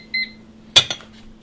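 A microwave oven timer being set: one short electronic beep, then a louder click and a softer second click from the keypad or door a moment later, close by in a quiet room.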